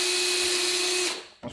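A power drill bores into wood during scroll saw and carving work, its loud steady whine holding for about a second before spinning down, followed by a brief knock.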